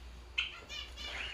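Small pet finches and parakeets give a few short chirps and squawks indoors, one brief sharp call followed by softer warbling twitters, fairly faint over a low steady hum.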